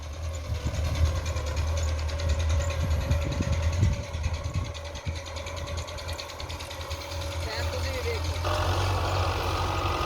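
A Belarus (Russian) tractor with a computer-levelling scraper runs its engine under load, a steady, close diesel drone with a low rumbling throb that continues throughout.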